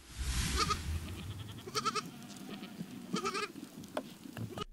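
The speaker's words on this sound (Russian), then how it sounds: "Здесь насчитывается более 500 овец." Sheep bleating on a large farm with more than 500 sheep in Aksu district, overlapping bleats from a flock heard at moderate distance over steady background noise.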